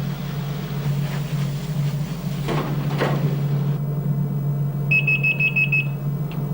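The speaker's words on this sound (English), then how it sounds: "When the duty timer sounds, remove the basket from the shortening and shake it several times" A McDonald's fryer duty timer alarm sounds in a commercial kitchen with fried products in shortening, a short burst of repeated electronic beeps over a steady low equipment hum.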